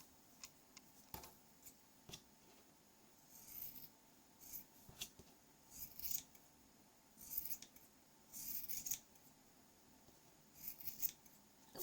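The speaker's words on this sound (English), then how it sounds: "Let's trim up our pom-pom here." Good scissors snip at a yarn pom-pom while it is trimmed for a mascot costume, giving quiet, irregular clipping and rustling in short bursts with gaps, close up and with no voices.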